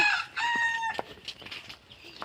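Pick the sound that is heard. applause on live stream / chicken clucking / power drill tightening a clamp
chicken clucking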